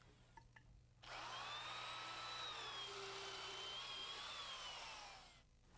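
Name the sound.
heavy-duty drill with auger bit drilling holes in wood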